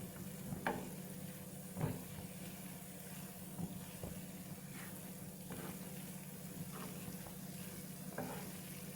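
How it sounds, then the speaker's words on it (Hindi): Tawa kaleji (liver) fries quietly on a hot griddle with a soft steady sizzle, while a spoon stirs and scrapes it in brief strokes every second or two. "अब हम इसको खुला थोड़ा सा चम्मच चला लेंगे। थोड़ी सी आंच तेज कर लेंगे।"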